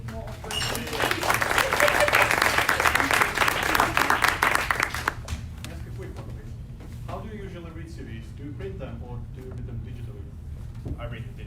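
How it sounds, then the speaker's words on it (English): An audience applauds at a product-manager meetup, dense clapping building for about five seconds before thinning out, with a voice talking over the tail. "let's give a big round of applause for him"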